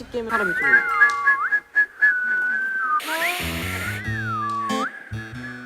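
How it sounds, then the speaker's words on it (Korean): A person whistles a wavering, sliding melody after eating hardtack biscuits, clear and close, with short breaks between phrases and a brief burst of noise midway. "다 먹고 휘파람 불어야"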